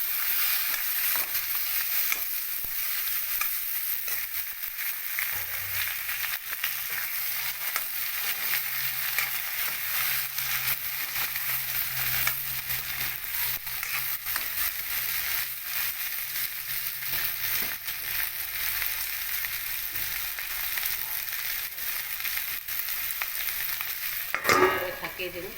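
Taro stolons cooking in a frying pan give a steady, dense sizzle with faint stirring scrapes throughout, and a brief louder clatter near the end.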